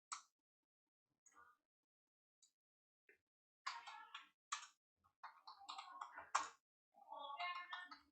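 Computer keyboard typing in bursts, close and quiet, with scattered single key taps early and then a steady run of keystrokes toward the end.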